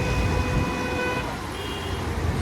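Busy moving road traffic heard from a motorbike, with a constant roar of engines and tyres and a couple of sustained car horn honks layered over the rush.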